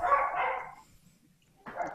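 Dog barks from pet dogs, two short loud yaps separated by a brief pause, close by, with no talking.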